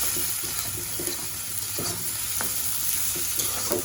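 Food sizzles steadily in oil while a spoon stirs and scrapes the pan in short, irregular knocks, for a Bangladeshi home-cooked rice dish, chal telani, made with garlic and onion.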